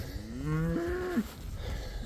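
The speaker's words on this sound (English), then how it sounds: "You can see the cows are super happy to get back to here." A single cow in a thick-grassed pasture gives one clear, drawn-out moo with a rising then falling pitch. It sounds fairly close over quiet outdoor background.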